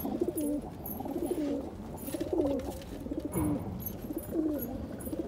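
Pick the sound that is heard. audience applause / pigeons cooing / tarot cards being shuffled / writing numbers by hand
pigeons cooing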